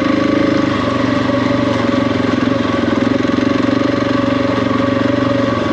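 Heavy motorcycle engine running steadily while riding in Moab, a loud, continuous throbbing drone with rumbling low-end pulses and no voices over it.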